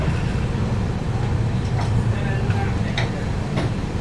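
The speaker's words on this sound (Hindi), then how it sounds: "अभी ट्रेन निकल रही है" A train pulling out of Bairabi railway station in Mizoram, with a steady low rumble of wheels and a few faint clicks and squeals over the din, plus background voices.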